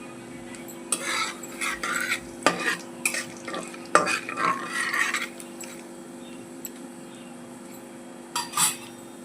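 Tempering spices frying in hot oil for a Nellore-style brinjal bajji: chana dal, urad dal, mustard seeds, cumin and a little fenugreek sizzle in a pan, with bursts of stirring and clinking utensils near and loud, quieting toward the end.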